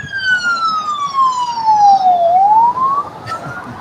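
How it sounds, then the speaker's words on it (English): A loud ambulance siren wails in a long falling then rising sweep as it passes nearby at LAX Airport, fading afterward with no talking. "Always an ambulance going by up there."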